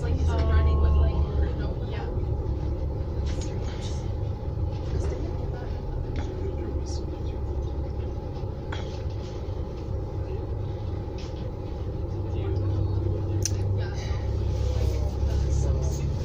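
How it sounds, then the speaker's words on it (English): A 2001 diesel 40-foot New Flyer bus rumbles past with a steady low engine drone, its noise swelling slightly near the end, while people chat nearby. "There's the 2001 diesel 40-foot New Flyer 4282."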